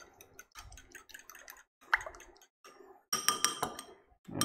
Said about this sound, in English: beat your eggs together really, really quickly and really well